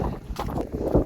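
Strong wind blowing outdoors near farm fields, loud buffeting gusts hitting the microphone in a short rushing burst.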